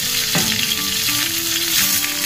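Bitter gourd (ampalaya) frying in a pan, a steady close sizzle and crackle with a few stirring scrapes, continuous and fairly loud with no talking.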